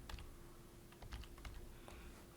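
Typing on a computer keyboard, a quick run of light, close key clicks over faint background hum, with no speech.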